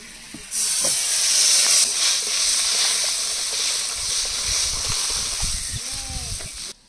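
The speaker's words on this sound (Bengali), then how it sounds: "ওই তেলের মধ্যে জল দিয়ে দেব" Water poured into a little hot oil left in a wok after frying fish bursts into a loud, sudden steamy hiss that holds steadily and then cuts off.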